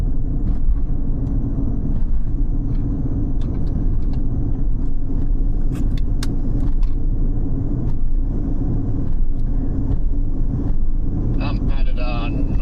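Car driving on a road during a live storm chase near the Oklahoma–Kansas border, a continuous close engine and tire rumble with occasional clicks and creaks, someone talking over it.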